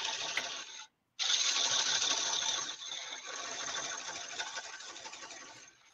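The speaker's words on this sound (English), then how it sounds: "you need to make sure you have a powerful lathe, because even with this one, it's 2 horsepower, so then I can feel it bogging down a little bit" A 2-horsepower wood lathe coring red oak bowls, its cutter grinding through the wood in a steady, dense whir that drops out briefly near the start, then resumes and strains slightly as the motor bogs under load.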